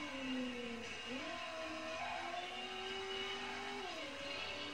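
A car engine in the Driver video game revs and accelerates slowly, its pitch climbing in steady rising sweeps, dipping at a gear change, then climbing again, loud and continuous with no talking.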